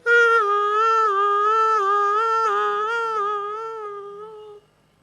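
A man vocally mimics an ambulance siren, a loud, close, steady tone with a quick rhythmic warble held for about four and a half seconds before stopping abruptly.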